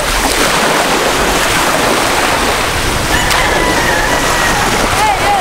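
Sea waves wash onto Gumasa beach in Sarangani, Mindanao, Philippines, facing nearly open sea, a loud continuous surf roar mixed with wind buffeting the microphone.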